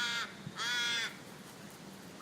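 A crow caws outdoors on a terrace, two distinct harsh calls with a third starting at the end, fairly clear against quiet background.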